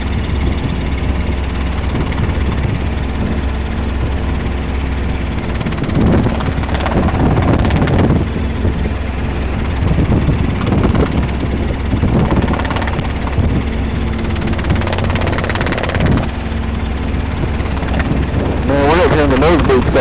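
A Robinson R22 helicopter in flight during approach practice, its steady rotor and engine drone loud and constant throughout, with a pilot's radio calls heard over it.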